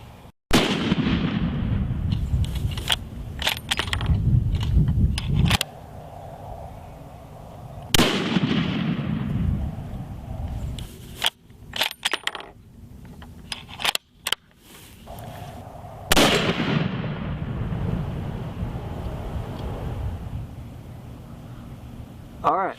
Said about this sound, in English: we shot our three round group